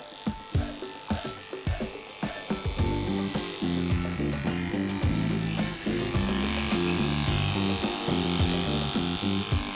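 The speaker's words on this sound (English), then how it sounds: "as I'm clippering around the side of this dog's body" Electric clippers trim along the side of a dog's body. A close, steady buzzing motor is first broken by short rustling and clicking handling noises, then settles into a continuous, slightly wavering drone as the blade feeds through the coat.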